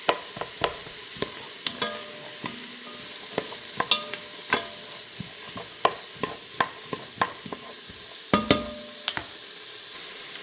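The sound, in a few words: sautéing celery and carrots in butter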